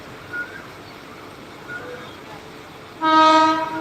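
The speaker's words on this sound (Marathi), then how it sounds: "कर्जतला ट्रेन चाललेली आहे पाहू शकता तुम्ही" A loud, steady train horn blares near the end over a continuous low rumble of a Karjat-bound train moving along the tracks.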